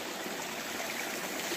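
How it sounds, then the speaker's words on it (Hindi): Water from a village farm pump runs out toward the fields in a continuous, even rushing stream, close and steady, with no talking. "चल रहा है पानी,"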